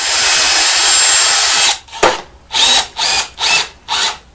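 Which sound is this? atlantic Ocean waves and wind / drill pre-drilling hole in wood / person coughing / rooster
drill pre-drilling hole in wood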